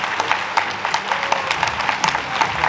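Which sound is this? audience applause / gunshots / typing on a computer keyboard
audience applause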